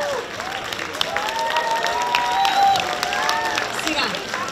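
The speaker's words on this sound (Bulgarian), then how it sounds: "Аплодисменти за тях!" Festival audience at an outdoor celebration stage in Burgas applauds a pair of brothers performing act, steady clapping and crowd noise running throughout, with a presenter's voice speaking over it.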